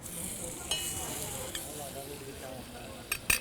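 Butter sizzling in a pan balanced on an upturned clothes iron, a soft continuous crackle close by, with a few sharp clinks near the end and no speech.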